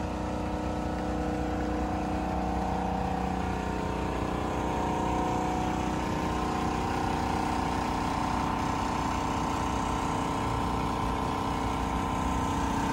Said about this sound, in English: That's that compressor you hear that kicks in.